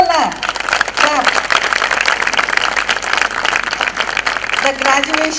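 Applause at a medical college graduation ceremony fills the whole stretch, a dense steady clapping from a crowd mixed with a speaking voice and murmurs above it.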